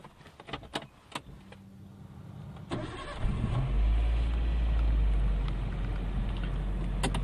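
A 1000 cc Maruti Suzuki Cultus hatchback starts up: a few clicks and a brief cranking, then the engine catches and settles into a steady low idle.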